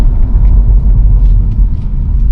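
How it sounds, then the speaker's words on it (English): A BMW 435i M Sport convertible with the N55 engine and valved exhaust gives off a steady, deep rumble, loud and close, with no talk over it. "The valved exhaust actually just opens up and it starts to sound quite nice, to be fair."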